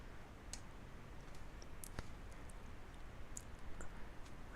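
A computer mouse clicks a few times, sharp isolated ticks at close range over a quiet hum while shapes are drawn in Adobe Illustrator.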